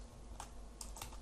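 Keys clacking on a computer keyboard while Java code is entered, a few distinct clusters of keystrokes over a low steady background hum, close and moderately loud.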